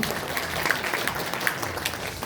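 Audience applause at a Korean lawmaker's community report meeting, a steady crowd clapping throughout the short stretch with a few louder hand strikes standing out, no talk over it.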